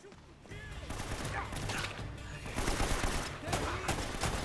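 Gunfire in Uncharted: Drake's Fortune, a third-person cover shooter: dense, continuous bursts of shots and rattling automatic fire that swell louder midway and keep going throughout.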